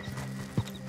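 Horse in Red Dead Redemption 2 gameplay: brief clip-clop hoof steps with a short whinny partway through, close and moderately loud over steady game ambience, no talking.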